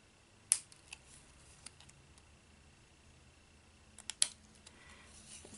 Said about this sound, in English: Then we're going to cut off this piece right here